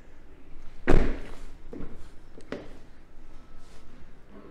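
The door of a Geely Monjaro SUV swings against its door limiter, producing a solid thunk followed by a couple of softer knocks and clicks, close and alone with no talk.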